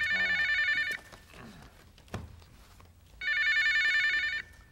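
Telephone bell ringing in two loud bursts of about one second each, separated by a quiet gap with a brief knock.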